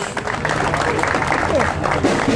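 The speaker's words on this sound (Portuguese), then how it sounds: "salva de palmas, senhoras e senhores" Applause from the audience at a municipal Independence Day ceremony in São Miguel, steady and moderately loud throughout, with voices sounding over the clapping.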